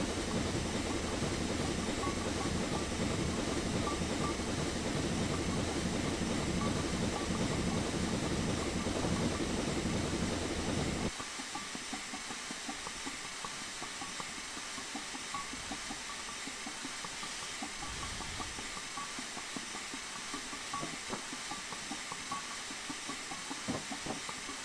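Train running in Train Simulator 2015, a small train with massive cars: loud steady rolling rumble and hiss for about eleven seconds, then dropping to a quieter, thinner drone with faint rattles.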